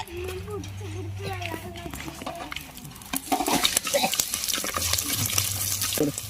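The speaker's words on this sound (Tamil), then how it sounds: "கடுகு பொரிஞ்சிடுச்சு கருவேப்பில் போட்டுக்கலாம் பூண்டு போட்டுக்கலாம்" Mustard seeds, curry leaves and garlic sputter and crackle in hot oil with stirring clatter against the pan, someone talking over the sizzle at the start and end.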